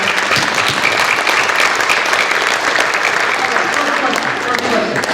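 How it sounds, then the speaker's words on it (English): A conference audience claps for a panelist at a career-advice panel, dense sustained applause from a sizable crowd, loud and even throughout. "big round of applause for our"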